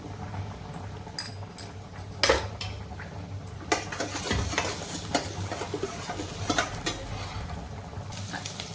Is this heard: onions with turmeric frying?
yes